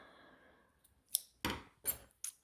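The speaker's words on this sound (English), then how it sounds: "now it is time to cut your yarn" Scissors cut crochet yarn on a finished piece: after a soft rustle come three or four sharp, close snips in quick succession.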